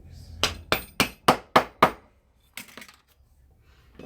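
A hammer strikes leather six times in a quick, even, sharp series during leatherworking, then a few fainter clinks and taps follow in a quiet room.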